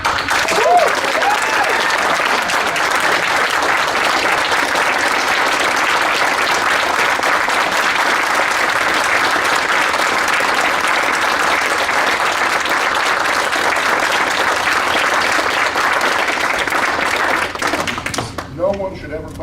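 At a township council meeting, an audience breaks into sustained, loud applause that continues steadily before abruptly dying out near the end.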